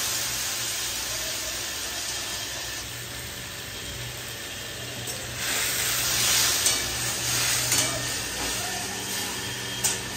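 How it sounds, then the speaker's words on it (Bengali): Prawn head paste juice fries in a pan with a steady, dense sizzle and hiss, broken by stirring scrapes that swell briefly midway; no one talks over the cooking. "এই যে চিংড়ি মাছের মাথার রসগুলো সুন্দর ভাজা হয়ে যাচ্ছে।"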